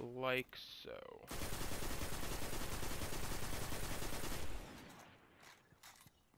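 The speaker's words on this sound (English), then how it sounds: "when you're shooting it, you're going to want to pull down and to the left." Sustained automatic gunfire from a gun in the video game Destiny, a dense rapid burst lasting about three seconds, preceded by a brief electronic tone and a short spoken remark, then fading into quiet echoes.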